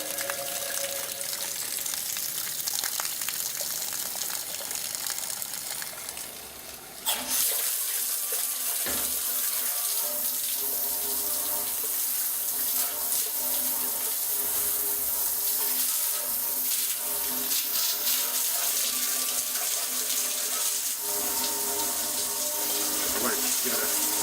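Water draining from an Inox Instantiser stainless tank during cleaning, a steady rushing, gushing flow that grows louder and brighter after a brief dip and continues close and constant to the end.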